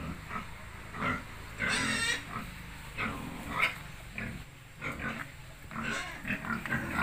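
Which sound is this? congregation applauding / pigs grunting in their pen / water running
pigs grunting in their pen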